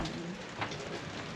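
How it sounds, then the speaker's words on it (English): Steady rain drums on a leaky camper on a very wet day, a dense close patter continuing throughout with no voices. "it's a very rainy day here"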